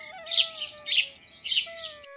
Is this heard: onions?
no